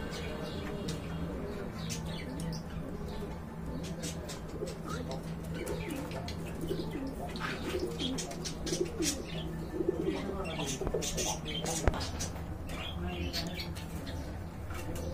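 Pigeons at a market pen coo and flutter nearby, soft repeated low calls mixed with faint chirps under steady background murmur of people talking.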